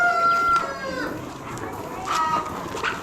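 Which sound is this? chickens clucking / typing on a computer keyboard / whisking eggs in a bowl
chickens clucking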